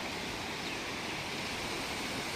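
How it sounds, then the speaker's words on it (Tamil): Water rushing out through the outlet of Kundala Dam, a steady broad roar that fills the whole clip with no breaks, loud and close. "இப்போ கொஞ்சமாக தான் தண்ணி வெளியே போயிட்டு இருக்குது"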